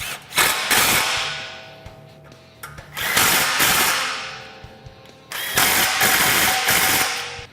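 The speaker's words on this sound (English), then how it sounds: "Go ahead and tighten up your exhaust bolt." A power tool tightens an exhaust bolt on a Honda Talon side-by-side in three bursts of whirring and ratcheting, each roughly two seconds long with short pauses between, close and fairly loud.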